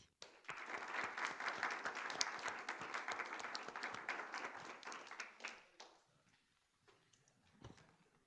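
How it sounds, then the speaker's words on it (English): A conference audience at an EU-Brazil relations event applauds the speakers, several seconds of steady clapping that stops abruptly, followed by quiet room noise and a few scattered taps. "another round of applause for our speakers"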